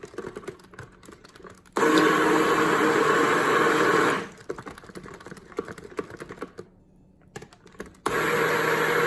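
A stick blender pulsing cold process soap batter with activated charcoal, loud whirring bursts of a couple of seconds each separated by quieter stretches of clicking and stirring, no talk.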